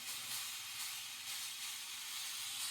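A travel clothes steamer on its high setting releases a steady, faint hiss of steam, continuous and even throughout with no voices.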